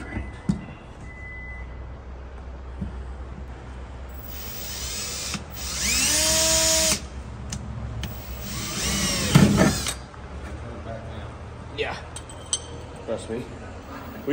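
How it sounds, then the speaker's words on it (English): An electric drill bores a hole through a wooden bed frame, with short whirring bursts rising and falling in pitch, one sustained run then a second, amid clinks and movement nearby. "First thing we got to do is drill a hole in this perfectly good bed."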